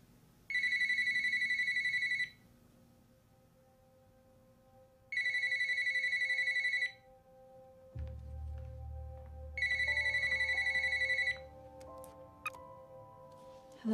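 Three bursts of an electronic telephone ringtone, each about two seconds long with gaps between, sounding fairly close and clear, while a low hum of background sound and faint clicks fill the pauses.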